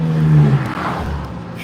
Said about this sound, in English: that motorcycle that just zinged up between all the lanes